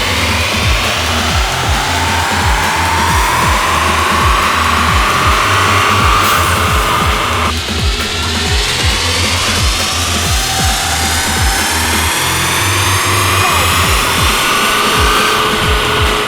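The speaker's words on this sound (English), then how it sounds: "Number 1 on the dyno today" A VW MK8 GTI with a Stage 1 E85 tune running hard on a dyno, loud continuous engine drone with a rising pitch sweep, a brief dip, then climbing again throughout.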